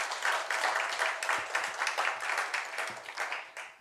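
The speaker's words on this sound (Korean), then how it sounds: "우리 감사의 박수, 격려의 박수로 감사합니다" A church congregation applauds through a worship service, the steady clapping of many hands filling the whole stretch at moderate volume with no voices over it.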